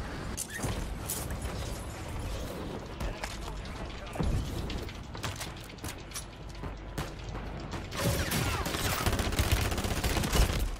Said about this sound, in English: I'm getting shot by like all directions.